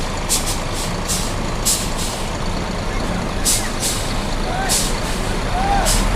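A Hino RN 285 bus with air suspension and an Adi Putro body idles with a loud, steady engine rumble, while short hisses of air release recur throughout and a voice talks over it.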